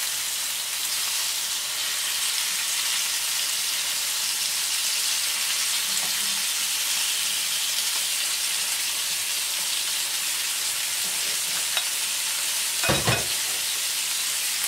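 Green peas frying in a non-stick pan, a steady loud hiss of sizzling oil that carries on throughout, with a short clattering stir near the end.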